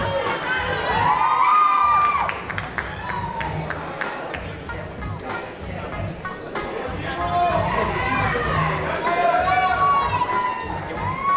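A crowd at a bodybuilding competition's men's classic physique debut class cheers, whoops and shouts loudly and steadily, with piercing whistles and yells rising over the continuous roar of the audience.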